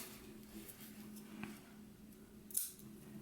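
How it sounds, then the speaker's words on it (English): Sewing scissors snip through elastic for a shirred summer dress, a faint single sharp cut standing out near the end over a quiet room hum. "And I'm just going to cut here."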